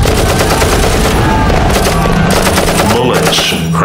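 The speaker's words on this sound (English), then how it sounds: "Bullets cracking, bombs landing, artillery shells exploding, people screaming." Battle noise forms a loud, dense wall of rapid machine-gun bursts and heavy blasts, a short, continuous, chaotic roar with no letup.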